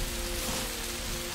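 Steady rain falling in the video game Rising World, a dense, even hiss with soft patter throughout the short stretch, fairly loud and constant with no voices.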